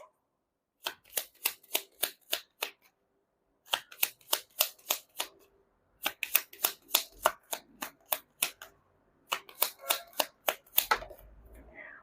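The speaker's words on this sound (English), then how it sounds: "You saw me shuffle group number 2." Tarot cards are shuffled in four quick bursts, each a run of crisp snapping riffles close to the ear, separated by short pauses, ending with a soft shuffle and rustle.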